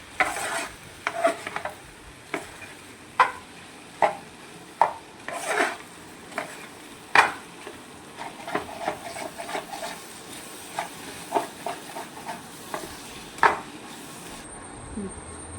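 A spoon scrapes and knocks repeatedly through Kerala-style pork and masala in a pan, sounding as irregular clatters and scrapes over a faint sizzle, close and fairly loud, with no voices.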